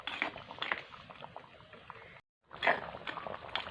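Fish curry bubbling in a pot, close plopping and spitting that cuts out briefly in the middle before the thick, busy boil resumes with a few sharper pops.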